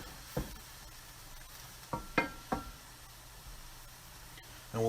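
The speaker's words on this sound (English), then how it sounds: "So we're mixing the vodka, and we're also going to add some basil" Vodka sauce with basil being stirred in a pan: a soft steady simmer underneath, punctuated by several sharp spoon scrapes and knocks against the pan, a cluster of them in the middle and another at the end.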